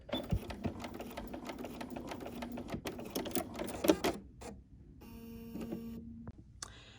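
A sewing machine stitches a quilt block in fast rhythmic runs, pauses briefly, then restarts for a shorter burst. The sound is close and moderately loud, with no talking.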